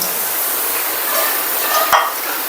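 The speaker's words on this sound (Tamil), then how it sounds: "ஒரு வழியாக சிக்கனை போட போகிறோம்" Chicken pieces dropped into masala in a hot pan, a steady dense frying sizzle with a brief stirring clatter near the end, close and continuous with no talk.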